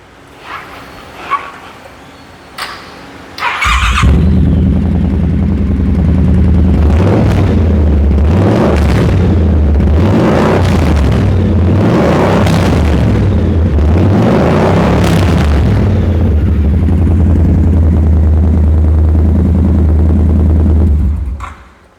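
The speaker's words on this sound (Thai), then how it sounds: "ขอมาฟังเสียงเครื่องยนต์หน่อยครับ" A customized 2018 Triumph Speedmaster 1200 motorcycle with about 3,000 km fires up after a few clicks, then runs close and loud, its idle swelling in repeated revs before settling and cutting off.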